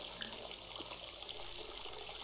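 A broken shower in the Sims 4 game running water, a faint, steady hiss of spraying water that continues evenly without a break.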